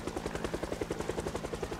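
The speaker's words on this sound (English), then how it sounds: "Is the helicopter hovering above me?" Helicopter hovering overhead in the video game Project Zomboid, a steady rapid rotor chop pulsing evenly throughout at moderate loudness with no other sound.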